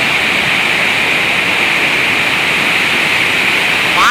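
Powerful waterfall at Monkey Falls near Valparai pours with a loud, unbroken rushing hiss, steady and dense from start to finish with no pauses.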